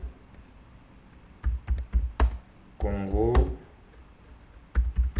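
Computer keyboard keys clack in short bursts of several quick strokes, close and crisp, with a brief spoken phrase in the middle between the typing runs.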